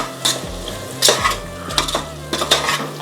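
Chicken, about 1.25 kg, stirred with masala powder in a metal pot over high flame, a spoon repeatedly scraping and clanking against the pot in uneven bursts over a soft frying hiss.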